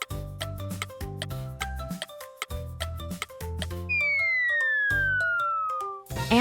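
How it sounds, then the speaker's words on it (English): Ambulance siren sweeps downward in one long, loud wail lasting about two seconds over bouncy background music. "Ambulance."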